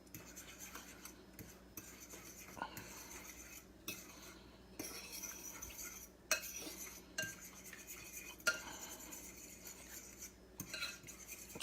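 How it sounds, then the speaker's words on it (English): A utensil stirs a pumpkin French toast egg mixture with pumpkin spice in a bowl, producing repeated soft scraping and clinking strokes at close range, with a few sharper taps. "I'm going to stir this all together"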